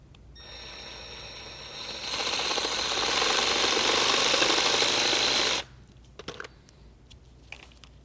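A saw cuts a notch partway through a metal pipe during a string wheel-alignment setup at home, a loud steady buzzing grind for about four seconds that stops abruptly, followed by a few faint clicks and handling knocks.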